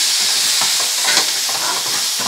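A paste of ginger, garlic and onion fries in a pan over lowered heat for Bengali katla fish curry, hissing loudly and continuously up close, with spoon scrapes mixed in.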